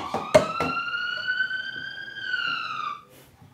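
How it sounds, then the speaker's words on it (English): A police siren plays as a steady wailing tone after a few sharp knocks, then cuts off, ending in quiet. "We've got a police siren."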